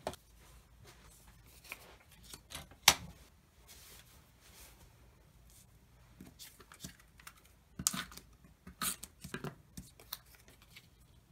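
Paper being trimmed for a December scrapbook album gives quiet snips and clicks, with soft rustling and handling noises scattered through and a couple of sharper ticks.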